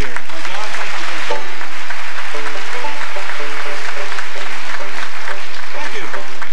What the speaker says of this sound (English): And about a nice round of applause for John over here